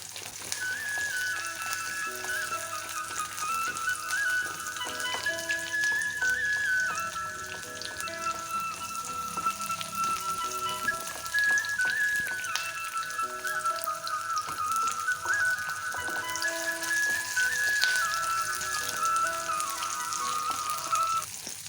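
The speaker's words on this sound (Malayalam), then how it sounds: "നമ്മുടെ വറ്റൽമുളകും ഇട്ട് കൊടുക്കാം. എന്നിട്ട് നമുക്കത് വറുത്തെടുക്കാം." Dried red chillies and onions frying in oil, a continuous soft crackle and patter like light rain, steady throughout with faint background music and no speech.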